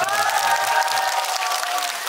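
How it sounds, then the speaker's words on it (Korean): A cinema audience applauds a film director during a stage greeting after a screening, a dense, loud wash of clapping with some cheering, while a person talks over it with a tonal sound in the background. "우리 오 감독님에게 다시 한번 박수 한번 부탁드립니다."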